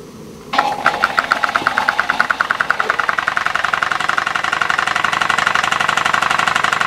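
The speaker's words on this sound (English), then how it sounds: "So let's see if we can start the engine and we'll run it for a little while." An 1880s steam drilling engine starts up and runs, its piston driving the flywheel in a steady, fast rhythmic chuffing and clanking that begins abruptly and continues evenly at close range.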